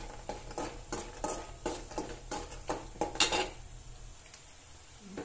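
Ragi vermicelli roasting in a pan for upma, a utensil scraping and clanking against the metal in a steady rhythm of stirring strokes, close and fairly quiet, with no talking.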